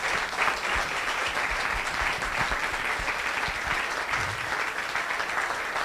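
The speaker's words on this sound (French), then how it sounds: "C'est Colline Préaire que vous pouvez applaudir très fort." An audience at a round-table discussion on LGBT+ visibility in the media gives a steady, dense burst of clapping for a guest, sustained and even across the whole stretch with no talk.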